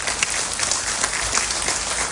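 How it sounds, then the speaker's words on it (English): Loud, dense applause from a large audience fills the whole span, a continuous roar of many hands clapping at once with no speech over it. "We need a real loud round of applause for Conrad Sangmaji."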